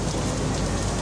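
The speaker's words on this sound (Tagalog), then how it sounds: "napakalakas ng ulan dito" Heavy rain pours in a continuous dense roar with no gaps on a trip from Boracay to Caticlan in Malay, Aklan, loud and close, with no voices.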